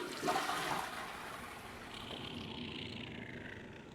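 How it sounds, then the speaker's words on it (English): A toilet flushes in the 2017 video game Prey, with a loud rushing swirl of water at the start that settles into a steady draining gurgle and trickle, heard alone without talk. "Yeah, this is going to be a 2-flusher."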